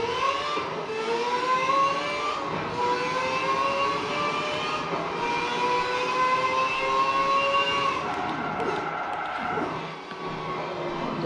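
A race car engine in a racing simulator video game drones steadily, its pitch sweeping slowly upward as the car accelerates, then dipping briefly on a downshift near the end, loud and continuous with no talk over it.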